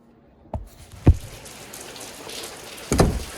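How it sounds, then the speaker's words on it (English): Heavy rain falling outside in Oakland, a steady close hiss of drops with a few louder thuds on a nearby surface. "It's raining like cats and dogs out here in Oakland."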